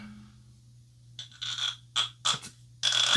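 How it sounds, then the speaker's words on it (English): Tight cork being worked out of a Loch Lomond 12 year single malt Scotch whisky bottle, a few short squeaky scrapes and a final longer twisting squeal, close and fairly quiet over a low steady hum. "Now it's a tight one. It's a tight cork."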